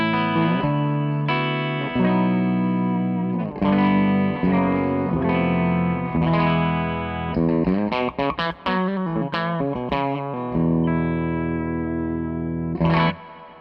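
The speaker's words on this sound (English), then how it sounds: "This is my clean sound with the Exosphere reverb." An electric guitar plays a clean tone through an Exosphere reverb pedal, with sustained chords, picked notes and lingering reverb tails, heard alone.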